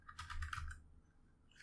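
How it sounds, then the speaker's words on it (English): A short, quiet burst of keystrokes on a computer keyboard, several quick clicks close by, then the tapping stops, with no speech. "I don't like typing"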